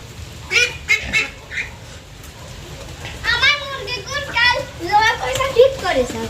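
Ducks quacking in a yard, several bursts of nasal calls coming in clusters, fairly close, with children's voices and chatter mixed in around them.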